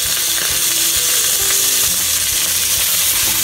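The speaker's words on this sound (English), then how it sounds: "now dropping in tomato" Tomato landing in ginger garlic paste frying in a pan for a spinach and corn dish, giving a steady loud sizzle with faint clicking and stirring underneath, no voices.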